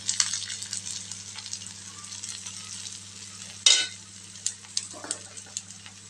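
Ragi and groundnut flatbread frying in oil or ghee on a pan, giving a steady broadband sizzle throughout with a few sharp clinks and scraping taps of a utensil, one louder knock midway.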